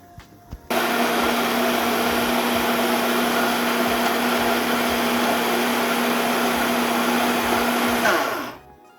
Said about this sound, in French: Moi je vais les mettre dans mon mixeur. Vous voyez, on met ça, donc on va écraser.